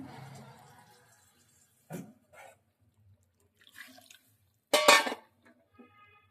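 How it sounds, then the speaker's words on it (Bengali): Water is poured into a kadai of cooking mung dal with fish in a home kitchen, heard as a few short splashing bursts separated by quiet gaps, close and moderately loud. "আর একটু জল দেবো।"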